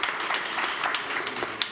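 Steady crowd applause fills the short stretch, a dense patter of clapping that holds at an even level throughout with no voices rising above it.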